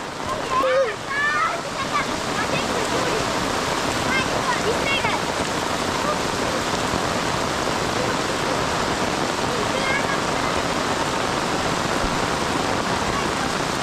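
Heavy monsoon rain pours in Konkan, a dense, steady rushing roar of water that stays loud and even throughout, with children's voices briefly rising near the start.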